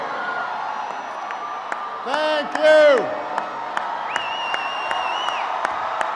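At a New Jersey political rally endorsing a governor, a crowd cheers and whoops in the background, with a loud shrill whistle near the end, while someone speaks briefly at the microphone.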